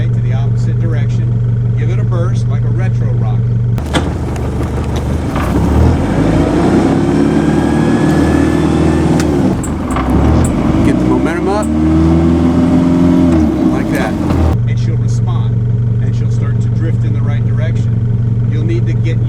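A boat engine heard up close throttles up into a louder, rising roar for several seconds, then eases back to a steady idle.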